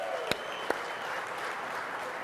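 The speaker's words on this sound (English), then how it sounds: "Let's give a round of applause to Joe and his team." Steady audience applause at a car event showcasing a supercharged 426 Hellephant Mopar crate HEMI, a dense even wash of clapping with a couple of sharp louder claps standing out near the start.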